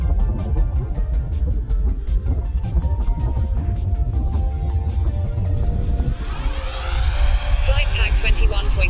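Jet engine of a flying F-22 Raptor model jet, a fluctuating whine and rumble that rises sharply near the end, under a voice talking.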